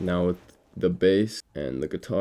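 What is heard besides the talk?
No distinct noise like a dog, phone or traffic.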